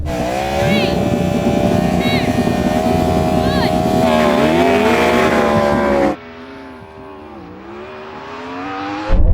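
A drag race between a Yamaha R1M superbike, a Porsche Taycan Turbo GT and a Ferrari SF90 on a dry strip. Loud engines scream and climb through rising gear tones up close, then drop off abruptly into a quieter, distant drone.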